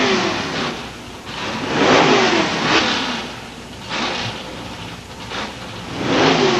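The McKay Racing Chevy II drag car from Collingwood, Ontario, at a 1992 Pro Eliminator race at London Motorsports Park, a loud engine rumble rising and falling in repeated surging waves, heard from across the track.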